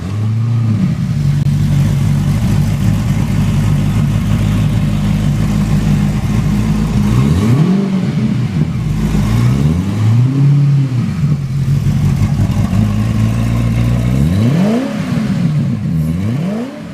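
A V8 motorcycle engine runs loud and steady with a deep, constant drone, rising and falling through several strong revs before settling back each time.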